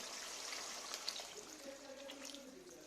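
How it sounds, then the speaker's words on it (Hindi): Boiled chickpea stock (yakhni) is poured into a pot of achari chana pulao, making a soft, steady trickle and splash that is faint and close, with a few small clinks and no talk. "हमने उबाल के चने और पानी निकाला था, वो यखनी डालने लगे हैं।"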